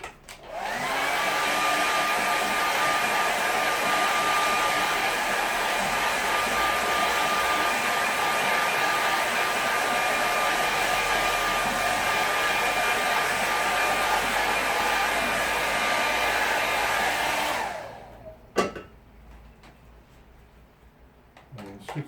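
A hair dryer blows steadily over a watercolour painting, a loud continuous whine and rush of air lasting about seventeen seconds before it switches off, followed by quiet handling sounds.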